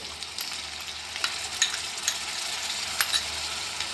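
Chicken frying with yogurt masala, a low steady sizzle with occasional light clicks of a utensil against the pan, fairly quiet and close, no talk.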